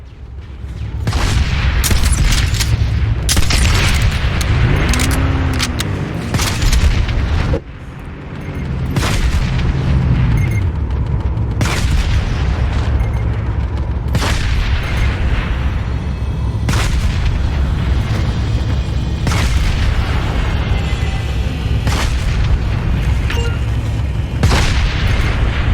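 A base turret in the video game Planetside 2 firing repeatedly amid battle, loud heavy booms and cannon-like blasts in rapid succession throughout, layered with distant explosions and gunfire.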